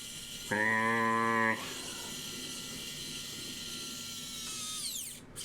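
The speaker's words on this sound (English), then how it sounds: "It's a little electric screwdriver." Small low-torque electric screwdriver driving tiny screws while a macro pad is assembled: one close, second-long buzzing whine of the motor, then quiet handling and faint clicks.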